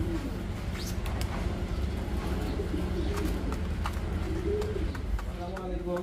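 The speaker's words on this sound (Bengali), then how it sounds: "আর কবুতর গুলো দেখেন একবার খাবারের চেয়েও বেশি খাচ্ছে" Pigeons at a pigeon farm coo steadily while feeding on grit, with soft low warbling calls close by over a constant farmyard hum and a few scattered chirps.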